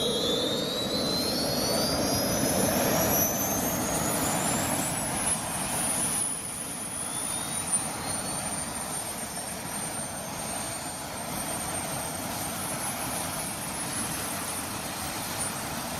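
A loud, steady jet-engine roar from a jetpack in an anime, with whining high tones sweeping upward early on before settling into a sustained, dense rush that stays constant throughout.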